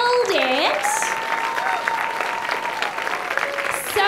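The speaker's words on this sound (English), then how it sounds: "Can we get another round of applause, please?" Audience applause at a speaker series event at the Indian Summer Festival in Vancouver, steady clapping from a crowd holding throughout, with a few whoops and cheers rising over it.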